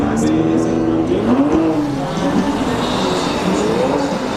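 Drag racing car spinning its tires in the right lane at a drag strip, a loud continuous engine roar with rising and falling pitch and tire noise, steady throughout.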